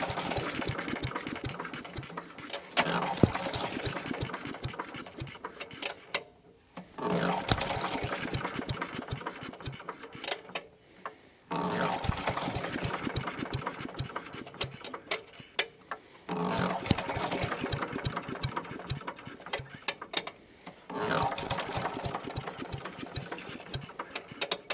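Small engine on an old Craftsman wood chipper found in a barn, running at idle after choking, a steady rapid mechanical chatter broken by several short pauses where it nearly stalls or cuts out.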